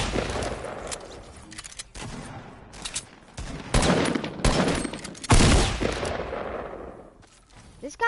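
Sharp AR rifle gunfire cracks out in a video game, with several loud shots and short bursts spaced across the moment and quieter background noise between them.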